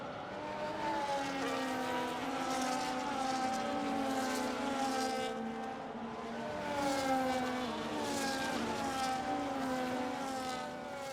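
Race cars on a formation lap in a racing video game, a steady layered engine drone with smooth tones that rise and fall gently, several cars running together at moderate level with no voices.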